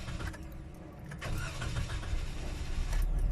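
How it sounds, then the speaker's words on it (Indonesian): Car engine with an EFI system and a lit check-engine light starting up, a low cranking rumble that catches and settles into a steady idle, close and fairly loud. "Kita hidupkan mesinnya."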